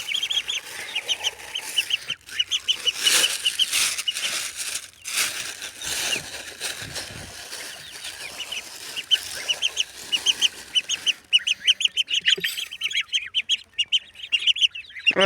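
Geese and ducks call in a busy outdoor flock, with repeated quacks and honking squawks that overlap continuously, fading briefly in the middle before a dense, close burst of calls returns.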